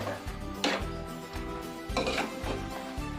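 Chopped cassava being stirred with ground spice paste in a pot, with a few close, dull scraping and knocking strokes of a spoon against the pot over a low background hum.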